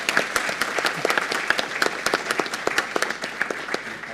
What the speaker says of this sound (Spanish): para el que pido un aplauso